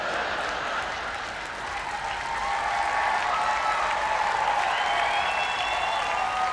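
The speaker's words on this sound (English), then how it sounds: "Big applause break there." A large audience at a Chris D'Elia stand-up comedy show claps continuously, a broad even roar of applause that swells slightly partway through and holds steady to the end.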